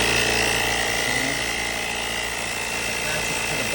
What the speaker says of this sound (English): I'm going to use the air compressor all the time